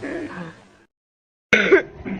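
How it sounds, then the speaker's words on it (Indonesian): A single sharp cough breaks a short silence, coming after a stretch of quiet talking and followed by more voice. "Batuk dulu."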